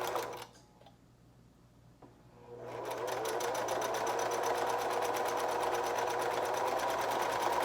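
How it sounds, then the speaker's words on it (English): A sewing machine stitches a dart into fabric. After a short pause with faint handling noises, it starts up into a steady, rapid mechanical whirr and keeps going close by. "Once I sew in the dart"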